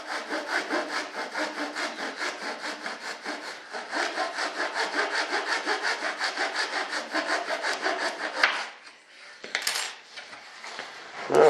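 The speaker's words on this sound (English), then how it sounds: "I'm going to take my old hacksaw blade here and trim off this end." An old hacksaw blade trims the end of an RC jet B-1 Bomber part with fast, even back-and-forth strokes, close and steady for about eight seconds, then a few clattering handling noises and no talking.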